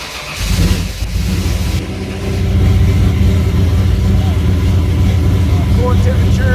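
A tuned Ford Mustang engine cranks and fires, catching within a second or two, then settles into a loud, steady, rumbling idle close to the microphone.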